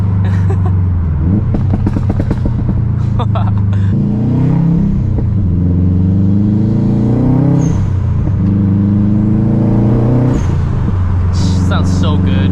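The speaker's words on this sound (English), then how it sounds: "Dude, the downshifts with this tune is crazy." A Subaru WRX STI with a single-exit catback exhaust and an HKS blow-off valve rumbles loudly while downshifting, revs rising and falling in repeated surges, with voices talking over the engine.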